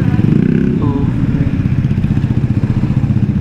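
Vespa scooters ride past on a mountain road near Tagaytay, a loud close rhythmic putter of small engines with a steady pulsing idle.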